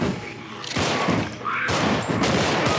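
Shotgun blasts in the video game Contagion come as several loud booming shots spaced about a second apart, close and punchy, with faint game tones in between.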